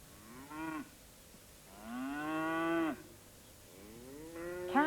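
Cattle give three drawn-out moos in sequence, the middle one longest and loudest, over a quiet outdoor background.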